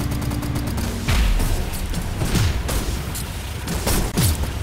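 Fireworks weapons fire in the Gear Up vehicle combat game, with a rapid burst of sharp pops followed by several loud booming blasts and whooshing impacts in quick irregular succession.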